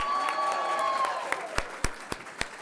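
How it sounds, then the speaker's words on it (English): Applause and a few cheers from a crowd at a career and technical education signing day event, a steady wash of clapping that thins out, leaving several isolated loud claps toward the end. "we're gonna clap, and in the middle of that, we're gonna have to have 4 woohoos"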